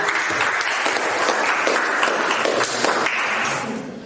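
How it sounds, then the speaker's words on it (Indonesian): A biology class of students applauds a classmate, a close, loud wash of rapid hand-clapping that stays dense throughout and softens slightly at the very end. "Tepuk tangan untuk Firly"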